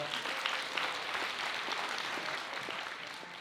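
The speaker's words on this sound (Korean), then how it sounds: "여러분 다시 한번 큰 박수 부탁드리겠습니다" Wedding guests applauding in a grand ballroom after the marriage declaration, a steady, fairly soft wash of many hands clapping without talk.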